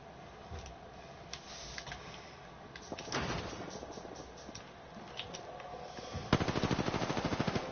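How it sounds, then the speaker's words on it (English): Rapid bursts of gunfire in an Apex Legends-style battle royale game, with clicking single shots early on, a louder volley in the middle and a sustained automatic burst near the end, without any talking. "I am taking fire, friends. Being shot at."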